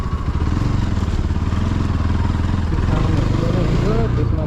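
A motorcycle runs with a steady, close engine drone and some rattle throughout, and a voice talks over it.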